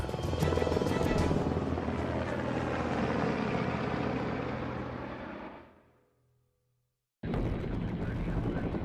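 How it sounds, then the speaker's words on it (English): A Black Hawk military helicopter's loud rotor thrum and engine roar fades away to silence, then the same heavy whirring noise cuts back in abruptly. "flies with one of the most sophisticated helicopters in the U.S. Army, the Blackhawk"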